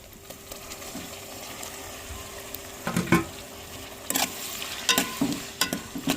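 Chopped tomatoes and coriander leaves sautéing in a pan for tomato chutney, a soft low sizzle with intermittent scraping stir strokes and small clinks growing busier toward the end, close by, with no talking.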